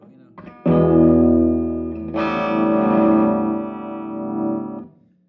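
An electric guitar chord rings out through a Bartel tube amp with a thick, overdriven tone, then a second strummed chord sustains brightly before cutting off.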